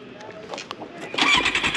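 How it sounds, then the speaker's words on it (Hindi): A four-cylinder Kawasaki Z800 superbike engine starts up and then revs hard and loud nearby, with people talking beneath the sound. "ये फोर सिलेंडर का साउंड जो आता ना भयंकर"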